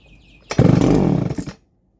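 A Baumr-AG SX92 chainsaw with a fuel-starved carburetor roars loudly to life for about one second, then cuts out abruptly into silence.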